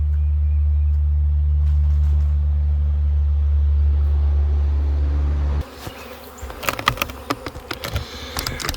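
A dense, steady drone of a honey bee swarm gathered in a bucket fills the first part, then cuts out abruptly, leaving scattered clicks and knocks with faint buzzing.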